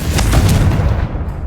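A Confringo spell explosion from the video game Hogwarts Legacy, heard as a loud, close blast with a deep booming rumble that holds steady, then thins out near the end.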